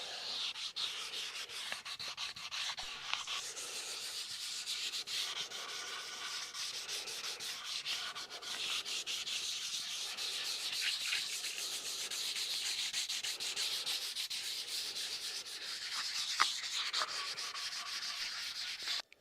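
Steady, continuous sanding by hand with 320-grit paper on the wooden body corners of a seven-string guitar kit, a close rhythmic rubbing hiss with no talk, running evenly throughout.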